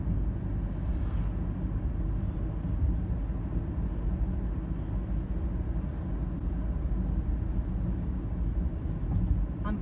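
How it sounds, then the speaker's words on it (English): Steady low rumble of road traffic near a Walmart with trailer trucks making deliveries, a continuous broadband drone of engines and tires throughout, fairly loud and unbroken, with no talking. "More traffic."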